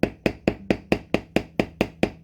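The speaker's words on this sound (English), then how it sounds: "Lots of little tap, tap, tap hammering." A hammer taps a metal bevel tool on leather, ten sharp, evenly spaced strikes in a steady rhythm. Each hit lands close and clear with a short ringing decay, and no one speaks.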